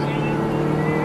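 A Ford B-Max Titanium with an automatic gearbox drones steadily from inside the cabin, a continuous engine hum with a faint whine, constant and moderately loud throughout.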